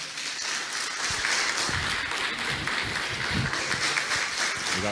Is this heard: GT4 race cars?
no